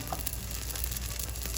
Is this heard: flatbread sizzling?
yes